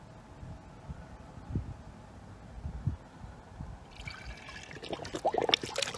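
A vase is dipped and twisted into a tub of marbling paint water, soft quiet sloshes and low thumps building into a brighter trickling, splashing swirl as it goes under, heard alone without talk.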